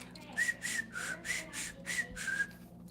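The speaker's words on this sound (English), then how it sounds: "I can whistle out of my tooth." Someone whistles through a gap in a tooth, a run of short breathy high tones repeated about six times in quick succession, close and fairly quiet with a soft airy hiss.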